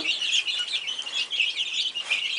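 A brood of baby chicks, young pullets, peeping continuously in high, overlapping chirps, a busy close-up chorus with no voices.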